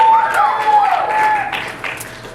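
Audience applause in a church service, a steady wash of clapping with a faint tonal ring running through it, lasting a couple of seconds.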